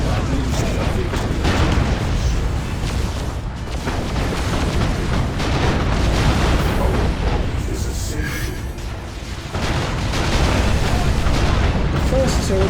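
In an Eldar versus Imperial Guard battle in Dawn of War 2, a turret is destroyed amid dense, continuous booming explosions and gunfire, with heavy rumbling bursts and crackling debris under loud battle noise.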